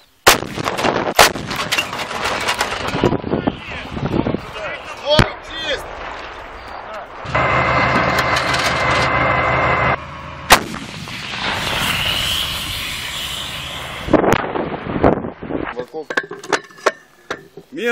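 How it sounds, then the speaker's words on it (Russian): Artillery pieces fire during live-fire training by artillery cadets: several loud, sharp blasts with long rumbling tails, along with shouted voices and a stretch of steady mechanical noise. "Внимание, выстрел!"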